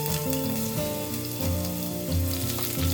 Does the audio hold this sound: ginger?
yes